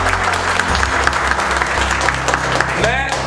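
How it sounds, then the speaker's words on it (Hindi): Students in a mobile-phone repair class clap together for their teacher, a steady round of applause with a voice and low hum running beneath it. "एक बार सर के लिए ताली बजा"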